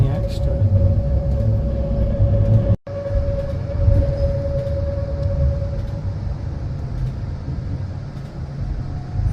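Swiss mountain train climbing toward the Oberalp Pass, with a steady rumble of wheels on rail and a faint tonal whine. Constant and close, with one brief cut partway through and people talking over it.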